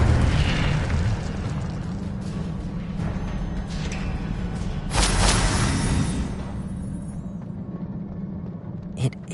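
The Incendio fire spell cast in the PS5 game Hogwarts Legacy produces a loud whooshing burst of flame that swells into a roaring blast, then fades into rumbling crackle.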